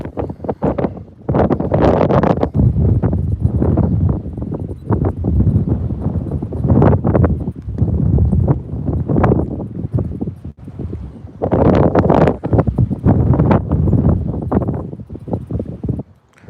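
Gusty wind buffets the microphone on a fishing dock on a bay, loud rumbling surges that rise and drop irregularly with brief lulls between them, and no talk is heard.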